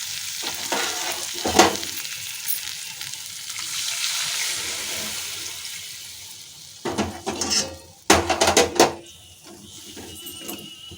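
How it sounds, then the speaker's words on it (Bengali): Dhoka curry being stirred in a pan after hot water goes in, with soft scraping and sizzling that swells into a few louder clattering bursts of spoon against pot near the end. "জল দিয়ে ভালো করে নেড়ে নিলাম"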